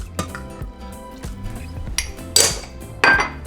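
Metal utensil stirring melting cheese sauce in a pan, giving irregular clinks and scrapes against the pan with a few sharper louder knocks near the end.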